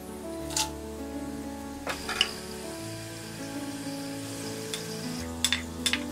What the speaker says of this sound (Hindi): अब हम इसमें डालेंगे ये खड़े मसाले, ब्लैक पेपर, शाजीरा, बे लीव्स